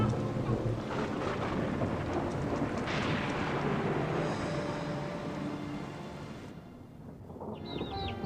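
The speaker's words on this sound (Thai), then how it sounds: "อะไรพายุเข้าอ่ะ" Storm with thunder in the video game All of You: a dense roar of rain and wind with a heavy thunder rumble, loud and continuous, easing slightly before a brief tonal chirp near the end.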